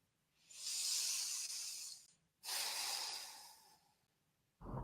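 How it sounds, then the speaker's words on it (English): Two close, slow breaths, each a long airy inhale followed by a softer exhale, sound clearly in a quiet room. A third breath begins at the very end. "let's start out with a deep breath in and out"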